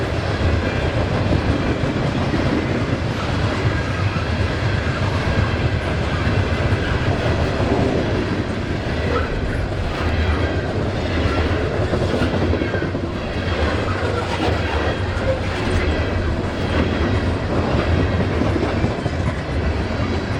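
A loaded coal train of hopper cars rolls past on the Port Road in icy winter conditions, a steady, loud rumble with wheel clatter that holds for the whole stretch without letup.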